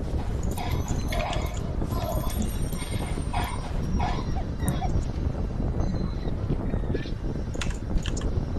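A dog in the online game JX2 lets out a run of short yips and whimpers over a constant, busy wash of game noise. The calls come in quick, repeated bursts throughout.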